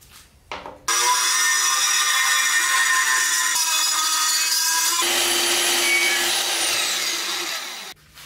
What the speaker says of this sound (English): when you cut it on the bandsaw, you don't have to worry about that